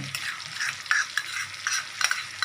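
Ground spices, including Kashmiri chili powder, frying in a pan produce a crackling sizzle, broken by repeated quick scraping strokes of a spoon stirring them, close and moderately loud.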